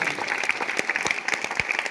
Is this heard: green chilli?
no